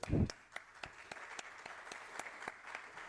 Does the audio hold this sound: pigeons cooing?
no